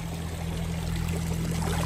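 Water runs continuously from a roadside spring on the route to Tajikistan, a close, steady pouring and trickling with a low hum underneath and no talk.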